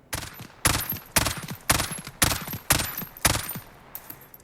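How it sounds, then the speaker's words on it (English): A FAMAS G2 rifle in Call of Duty Modern Warfare fires a string of about seven short three-round bursts, sharp, loud, evenly spaced cracks with brief gaps between them. "I'll just let it rip with a couple bursts and we'll see what the pattern looks like"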